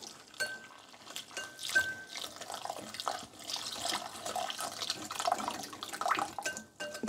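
Water poured into a warmed bowl for traditional bread dough, a continuous irregular splashing and trickling that rises and falls in bursts throughout, fairly close and alone without talk.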